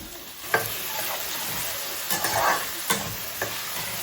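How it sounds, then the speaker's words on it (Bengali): Chopped onion, garlic and diced potato fry in hot oil, giving a steady broadband sizzle with a few sharp scrape-and-stir knocks of a spatula scattered throughout. No voices are heard. "একটা পেঁয়াজ আর এক কোয়া রসুন কুচিয়ে নিয়েছি তেলের মধ্যে দিয়ে দিলাম"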